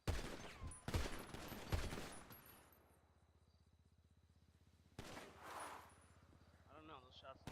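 Gunfire in a video game, with loud sharp reports in the first two seconds, a low humming lull, then another burst followed by fainter crackling, and voices heard intermittently.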